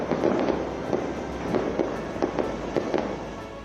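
Diwali fireworks and firecrackers burst across Delhi in loud, irregular sharp cracks and pops over a constant crackling roar of distant explosions.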